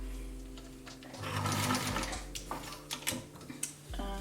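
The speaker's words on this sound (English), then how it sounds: "I'm just going to sew a straight stitch on some scrap fabric, like so." A sewing machine runs a straight stitch across scrap fabric, its motor whirring loudly in a steady burst with quick mechanical ticking, close up and with no talk.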